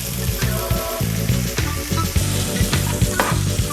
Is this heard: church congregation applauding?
no